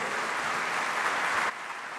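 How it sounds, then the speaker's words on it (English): Audience applause at the Afreximbank Annual Meetings, a dense, steady wash of many hands clapping that holds for about a second and a half, then drops sharply to a fainter, thinner patter. "Ladies and gentlemen, he's yours for the applause."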